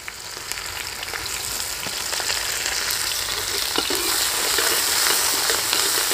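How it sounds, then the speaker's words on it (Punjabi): Garlic and onions frying in a pan, a continuous bright crackling sizzle up close that gradually grows a little louder and denser, with occasional faint stirring clicks and no voices. "ਲਸਣ ਨੂੰ ਆਪਾਂ ਹਲਕਾ ਜਿਹਾ ਬਰਾਊਨ ਕਰਾਂਗੇ"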